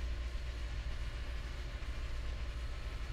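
SP&S Northern 701 steam locomotive train rolling along Marias Pass in Train Simulator 2017, a steady low rumble of wheels and cab noise droning on without pause, close and fairly loud.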